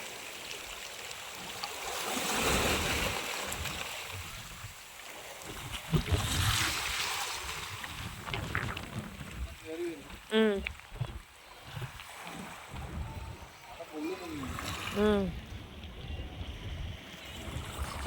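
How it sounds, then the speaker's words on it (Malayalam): Sea waves surge in over the shore with a broad wash of water rising and fading in swells, while people talk nearby over the steady rush. "അതിലേക്കൊക്കെ വെള്ളം കയറി വന്നുകൊണ്ടിരിക്കുകയാണ് കേട്ടോ"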